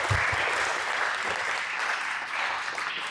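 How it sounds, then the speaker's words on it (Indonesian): Audience applause at a Buddhist talk by Bhante Saddhanyano, a dense, steady wash of clapping from a crowd that holds for about three seconds with no voices over it. "tepuk tangan untuk saya."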